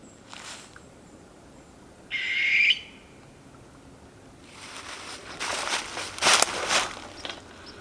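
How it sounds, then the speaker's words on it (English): A short, buzzy owl call plays from a bluetooth speaker outdoors in winter, followed by rustling, footsteps and a few bird chirps. "what I'm going to do right now is make an owl call and see what comes in."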